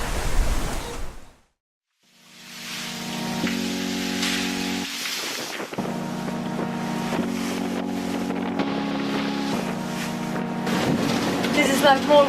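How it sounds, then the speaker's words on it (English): Strong wind while sailing a boat, a loud rushing roar buffeting the microphone, dropping out briefly near the start, with steady tonal drone and people talking over it. "This is like more wind than we have had in a very long time."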